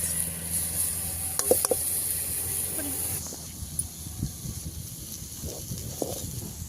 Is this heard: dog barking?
no